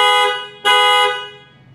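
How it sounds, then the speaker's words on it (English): A 2011 Toyota Sienna's panic alarm, set off from the keyless entry fob, sounds as two loud horn honks close by, each with a slow fade, and nobody talks over them. "If you hold that for 2 seconds, the alarm will go off."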